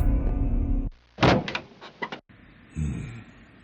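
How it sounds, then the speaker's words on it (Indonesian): A door bangs loudly indoors at night, a cluster of sharp heavy knocks and thuds close by, framed by quieter room hiss before and after. "Tiba-tiba saya dikejutkan dengan sebuah dentuman suara kuat. Suara itu berasal dari pintu."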